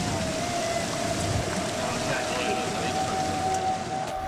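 Steady heavy rain pounding on a fishing boat out on open water, a dense continuous hiss with a faint tonal hum beneath, with no talk.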